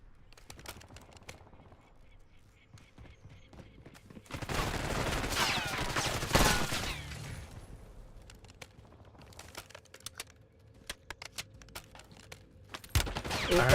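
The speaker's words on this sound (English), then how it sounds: "Somebody shooting, somebody shooting." Bursts of video game gunfire: scattered single cracks, then a loud sustained volley of rapid shots mid-clip, followed by more intermittent pops and snaps, with no talking.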